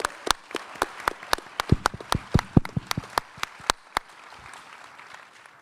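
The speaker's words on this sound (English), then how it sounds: "Give these guys a round of applause" A conference mainstage audience claps in a brief burst of sharp, close individual claps that thin out and stop after about four seconds, leaving quiet room tone.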